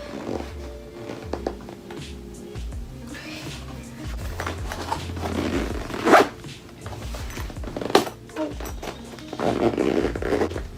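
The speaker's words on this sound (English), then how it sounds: "Now I'm going to zip it up." The zipper on a Fjallraven Kanken backpack is worked shut in several effortful tugs, with short zipping rasps, rustling fabric and a few louder pulls, close to the microphone.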